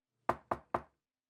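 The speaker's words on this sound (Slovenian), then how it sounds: "Bibi in Pika sta splezala na drevo in potrkala pri sraki." Three crisp, evenly spaced knocks on a wooden door at a magpie's nest high in a big tree in an animated children's story, close and clear with silence around them.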